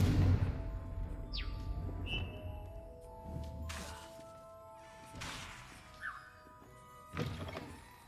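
A Confringo blasting spell in a Hogwarts game hits with a heavy thunk and crash, followed by several scattered thuds and whooshing effects of varying loudness spread over the following seconds.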